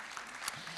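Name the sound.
audience applause at a conference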